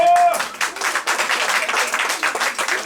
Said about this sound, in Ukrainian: Бурні, бурні аплодисменти!